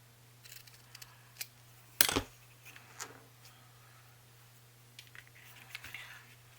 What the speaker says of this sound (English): So I am going to just trim it.